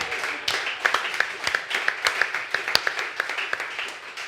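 A television studio audience applauds the day's contestants, with rhythmic, fairly close clapping and a regular beat running through it, sustained for about four seconds.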